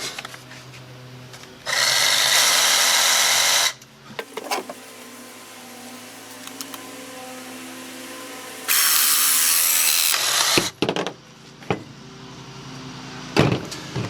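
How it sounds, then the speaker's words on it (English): A Sawzall reciprocating saw cuts material for a DIY off-grid bucket shower in two loud, sustained buzzing bursts of about two and ten seconds, separated by quieter handling clatter and knocks. "save yourself some headache and use a Sawzall"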